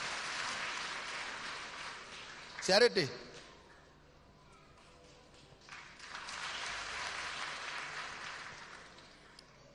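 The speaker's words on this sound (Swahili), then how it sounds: "Charity, acha tupigie makofi." Applause from a church congregation rises at the start, gives way to a short spoken passage, then swells again as a broad, steady wash of clapping through the remaining seconds.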